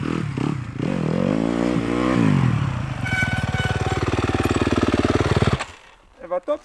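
A 2020 Yamaha 250 WRF enduro motorcycle engine revs and pops up close on rough terrain, pitch sweeping up and down before settling into a steady throbbing idle that cuts off near the end, with a rider talking over it.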